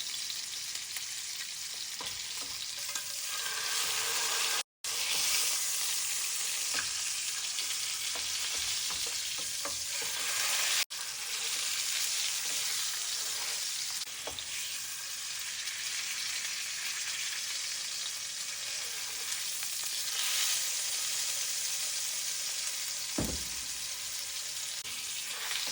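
A pot roast sears in a very hot skillet with a little vegetable oil, giving a loud, continuous, hissing sizzle that stays close and steady for the whole stretch, with a brief dropout and occasional soft knocks.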